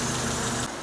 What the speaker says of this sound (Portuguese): agora o motor está na sua temperatura ideal de trabalho